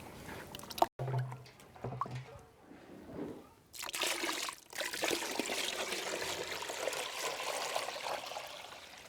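Water trickles and splashes as it is poured into an organic manure mix that contains a jaggery solution, starting faintly, then becoming a steady close pour after a brief break.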